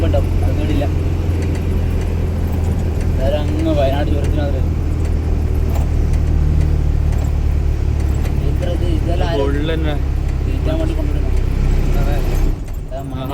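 A car engine idles and runs steadily with a low hum on a road trip toward Sathyamangalam Forest in Tamil Nadu, cutting off near the end, with people talking over it throughout.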